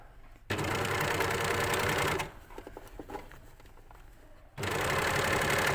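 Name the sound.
sewing machine stitching elasticised cuff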